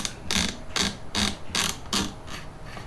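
A wrench loosens the barrel nut on a Tavor TS12 shotgun with about seven evenly spaced, crisp ratcheting clicks in a quick, steady rhythm, close and clear.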